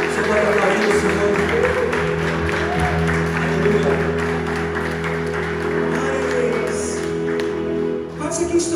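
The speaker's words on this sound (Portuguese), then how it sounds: "Você pode aplaudir o Senhor?" Church congregation at a worship service applauds the Lord, steady clapping throughout under sustained music with held tones and voices, fairly loud and continuous, dipping briefly near the end.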